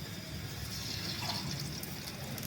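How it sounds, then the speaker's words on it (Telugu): Steady oil and water pouring into a pot, a continuous soft splashing stream that holds at an even level throughout. "ఇంత ఆయిల్ పోసేసినాం"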